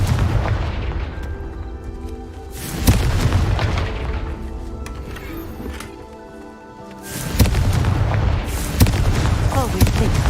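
Confringo spell blasts in Hogwarts Legacy, a spell-casting video game, sounding as loud booming explosions with sharp bursts near 3 and 7.5 seconds over dense game music and effects, with a voice briefly present.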